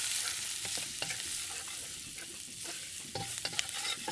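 Onion and turmeric stir-frying in a pan for turmeric fried rice with ham, a soft steady sizzle broken by clinks and scrapes of a utensil stirring, close and fairly quiet.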